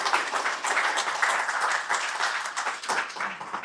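Audience applause at a wildlife conservation group's 60th anniversary celebration, a continuous dense burst of clapping, fairly close and even throughout.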